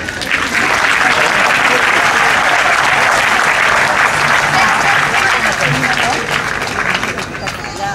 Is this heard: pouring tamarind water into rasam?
no